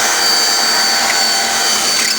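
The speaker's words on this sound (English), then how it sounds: "you saw me drill the rivets out" A power drill drilling out rivets on a 1995-1999 GM SUV or truck door whines continuously at high speed, a harsh, steady grinding buzz up close with no pauses.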